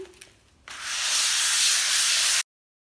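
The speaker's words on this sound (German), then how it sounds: "mit einem Schleifpapier die Oberfläche so ein bisschen anschleifen" A close, steady rasp of sandpaper scuffing a painted IKEA furniture surface, starting after a brief quiet moment and stopping sharply.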